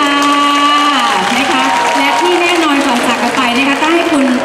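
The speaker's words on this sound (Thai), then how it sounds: "ขอเสียงปรบมือด้วยค่ะ" An audience claps steadily at a Thai talk-show event at The Nine Center. A loud voice talks and sings over the applause throughout.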